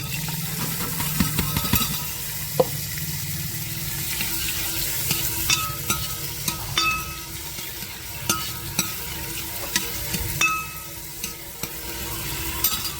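Onions frying in hot oil in a pan, a bright continuous sizzle broken by repeated spoon clinks and scrapes as they are stirred, close and clear.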